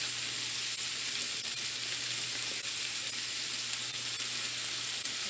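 Onions frying in a pan while being stirred, a steady loud sizzle with constant hiss and no speech.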